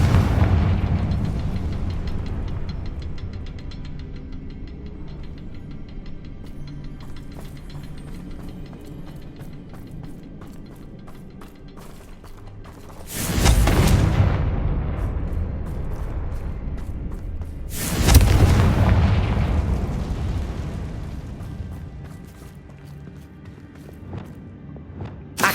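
Confringo blasting spell explosions in the Hogwarts Legacy video game: two loud, booming blasts with rumbling decay, a few seconds apart, over a quieter ambient game background.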